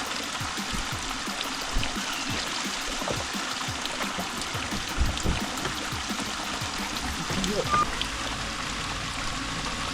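A stream flows and trickles steadily beneath a bridge nearby, a constant babbling wash with small splashes scattered throughout.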